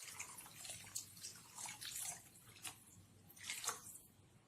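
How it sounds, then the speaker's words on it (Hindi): Water poured into a pan of rohu fish curry gravy with tamarind water, a steady splashing pour with small bursts and drips, moderately close and alone. "इमली का पानी डालने के बाद हम इसमें और थोड़ा सा पानी डाल देते हैं।"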